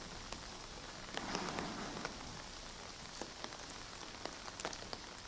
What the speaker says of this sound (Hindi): लगातार पिछले 2 दिनों से अगर हम देखें तो बिना रुके बारिश हो रही है